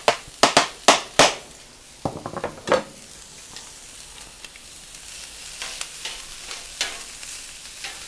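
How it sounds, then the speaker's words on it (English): Leftover pork tenderloin warming in a hot pan, a soft steady sizzle under a series of sharp clacks and scrapes from a utensil stirring and tapping against the pan, busiest at the start, then sparser. "That pork tenderloin, I'm just going to give it a little warm through, okay?"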